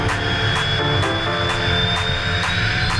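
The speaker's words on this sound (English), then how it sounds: "Takeoff thrust, engine's good." A Cirrus SF50 Vision jet at takeoff thrust on the runway roars steadily and loudly with a sustained high whine, heard continuously from close by with no voices.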